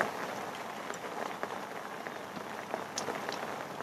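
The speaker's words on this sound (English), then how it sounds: "As you can probably hear, it started to rain," Steady rain patters on a bivvy tent at a lakeside carp-fishing spot, a constant hiss with scattered louder drops, no voices.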